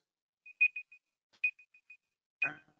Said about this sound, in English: can everyone hear that? Yes, that annoying beeping noise.